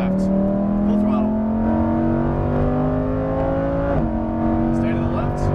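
A Lamborghini Huracan Performante strains under full-throttle acceleration on a racetrack, pitch climbing steadily before a quick gear change, with a voice talking over the roar.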